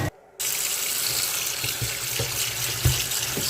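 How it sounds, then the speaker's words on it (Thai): Cold water runs from a kitchen tap to rinse boiled mushrooms in a Thai kitchen in Sweden, giving a steady, close hiss of flowing water with a brief break near the start and a few light splashes. "อันนี้คือน้ำเย็นในก๊อกเลยนะคะ ล้างน้ำเย็น"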